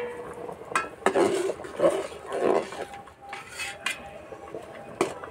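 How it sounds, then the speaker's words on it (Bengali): Metal lid lifted off a cooking pot of half-boiled vegetables for khichuri, with a few clanks and scrapes of metal against metal, close and moderately loud. "এবার চাপাটা খুলে দেব।"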